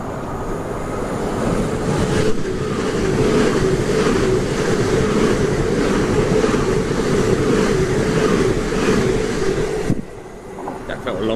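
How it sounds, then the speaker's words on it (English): A Stansted Express train runs through Angel Road station without stopping, a steady loud rumble of wheels and carriages lasting several seconds before fading away abruptly near the end. "Stanford Express coming through."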